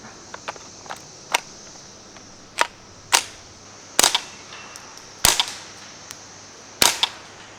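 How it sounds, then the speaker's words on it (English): A compact, short-barrelled Tippmann M422 .22 rifle with a suppressor fires about five muted, sharp pops at irregular intervals outdoors, with a few softer clicks between them. "This is my Tippmann M422, super compact, short barrel, and really, really fun with a suppressor. Let's do a couple rounds real quick."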